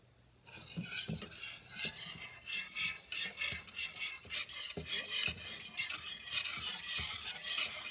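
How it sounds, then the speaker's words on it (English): Eggs being stirred in a pan with a utensil, rhythmic scraping strokes against the metal repeating about once a second under a light sizzle, close up with no voices. "I think I'm just gonna stir"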